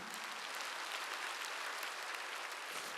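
Congregation applauding during a Wednesday worship service at Jesus Center Church, a steady dense wash of many hands clapping at once, sustained and even for the whole stretch.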